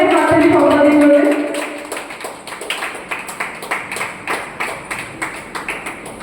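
A contestant in a Purulia Chhau dance competition claps hard in a steady, evenly spaced rhythm of about a dozen sharp claps, close and loud, right after a short voice at the start.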